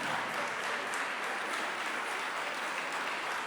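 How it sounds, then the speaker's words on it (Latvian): Audience applause for dancers after a Viennese waltz in a Senior I dance final, heard as a steady wash of clapping from a distant, moderately quiet crowd, uninterrupted throughout. "Pateicamies dejotājiem ar aplausiem par nodejoto Vīnes valsi"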